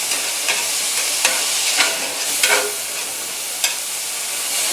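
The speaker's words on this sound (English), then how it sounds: "we go ahead and fry this until the green peppers are soft" Green peppers fry for low FODMAP Spanish rice, a steady bright sizzle filling the pan with a few sharper pops and stirring scrapes throughout.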